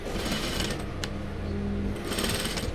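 A sewing machine runs steadily, stitching the crotch seam of a jumbo jumpsuit at a half-inch allowance, a close, even mechanical whir that goes on without a break.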